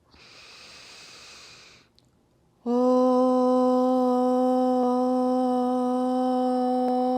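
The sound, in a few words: full breath in through the nose, open mouth exhale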